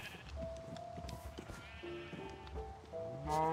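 Sheep in the Minecraft video game bleat repeatedly in short wavering calls, several overlapping at moderate loudness, with a louder bleat near the end over faint game background.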